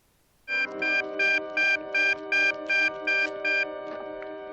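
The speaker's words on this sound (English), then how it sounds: "Here, Adam West is holding a bright red, bat-shaped phone." Bright red bat-shaped telephone from the 1960s Batman TV series ringing in nine regular electronic trill bursts, close and clear after a brief quiet start, with no talk over it.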